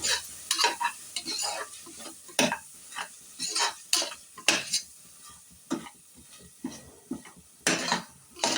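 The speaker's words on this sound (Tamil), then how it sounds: "நம்ம எடுத்து வச்ச மட்டன் பொடியும் தனி மிளகாப்பொடி அதையும் போட்டு நல்லா வதக்கிடுங்க" Mutton masala and chili powder sautéing in oil, with a loud spoon scraping and clanking against the pan in uneven bursts over a constant sizzle.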